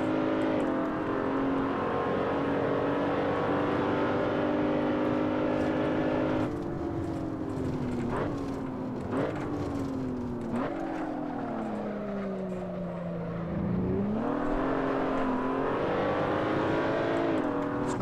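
Race car engine in the video game Assetto Corsa during a career-mode lap, droning steadily with harmonic whine, dipping as the car lifts into a corner and rising again on acceleration, loud and continuous with no talking.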